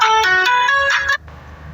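A mobile phone ringtone plays a bright, quick melodic phrase of stepped tones, loud and close, for about a second before cutting off abruptly into quiet room noise.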